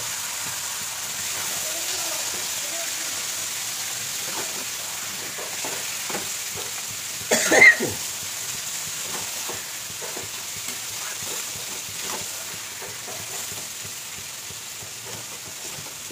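Marinated mutton cooks in a spiced masala in a pan, a soft continuous sizzle with scattered stirring clicks and one louder clatter midway, fairly quiet throughout.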